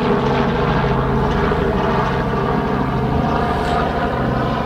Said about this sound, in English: That's the helicopter going over.